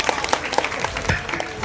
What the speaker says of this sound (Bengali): এটা হাততালি ওনার জন্য।